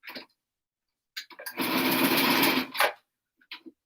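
Sewing machine stitching across two aligned pieces of fabric with white thread for a unicorn candy cane ornament, a close rapid buzzing run of about a second and a half between short bursts of stitching.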